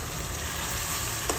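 Chicken liver (kaleji) frying in oil, a steady dense sizzle heard close, with a brief soft scrape of mixing near the end.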